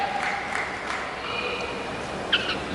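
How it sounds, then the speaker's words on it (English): Crowd applause at a 2017 Asian Cup table tennis match: a few seconds of continuous, moderately loud clapping with no break. "I think he just has to applaud"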